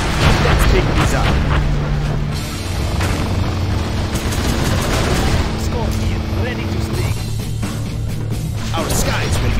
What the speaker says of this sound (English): May I join with some rocket barrage?